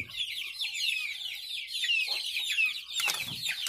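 Newly hatched Brahma and Jersey Giant chicks peep continuously in a steady, high chorus of overlapping chirps, close by and fairly loud, with a few brief rustles.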